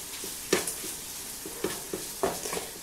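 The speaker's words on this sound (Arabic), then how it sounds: "ونخليه تيتشحر هاد الدجاج مع هاد البصيله في هاد التوابل هادو" Chicken with onion and Mexican spices frying in a pan, with a low, quiet sizzle broken by several short spatula scrapes at an uneven pace.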